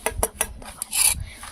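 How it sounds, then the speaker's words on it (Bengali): Green chillies being ground by hand, rough rasping and rubbing strokes of stone on stone in a few short bursts, close and fairly loud, with no voices. "লঙ্কা কিন্তু ঝাল খুবই হয়, তা আমি বেটে নিচ্ছি"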